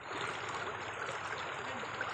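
A provincial river used for gold panning flows with a soft, steady babbling rush, moderately close and fairly quiet, with no speech over it.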